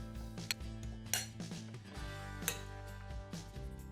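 Sliced beets are moved into a plate or bowl, giving a few soft clinks and taps of utensil on dish over a low, steady background hum, with no talking.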